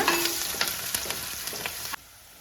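Green chillies and ginger sautéing in hot oil with curry leaves, cumin and chana dal, a steady close sizzle broken by several sharp spatula scrapes, cutting off abruptly near the end.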